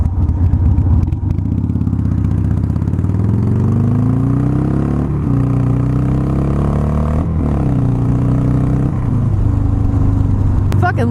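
A motorcycle with a dirty carburetor runs steadily and loudly up close, its engine pitch rising and falling through several revs over the whole stretch, with a clattery mechanical edge.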